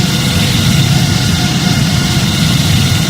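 Boeing 787-9 engines in the Project Flight video game spool to a steady takeoff thrust roar, a loud, dense, unbroken rumble with broad hiss on top.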